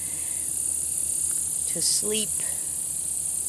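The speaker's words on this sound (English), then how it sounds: "Crickets are a little bit on the loud side, but okay." Crickets chirp at night in a hurricane-prep setting inland from Flagler Beach, Florida, a steady high insect trill running throughout, with a brief voice surfacing near the middle.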